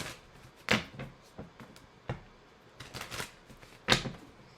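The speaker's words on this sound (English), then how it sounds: "Let me give this a little shuffle because too many cards flew out" Tarot cards riffled and shuffled in quick bursts of crisp flapping and clattering, with soft taps between, close and fairly quiet.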